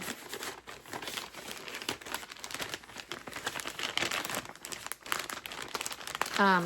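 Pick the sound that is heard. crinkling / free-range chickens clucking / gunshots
crinkling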